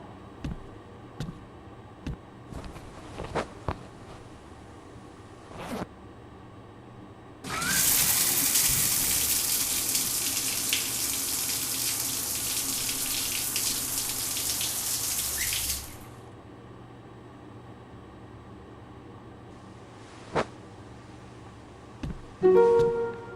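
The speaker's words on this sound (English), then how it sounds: "Task 2, please take a shower." A shower runs in the horror game The Milgram Experiment, a steady loud rush of water that starts abruptly, lasts about eight seconds and then cuts off, with faint ticks and small knocks before and after.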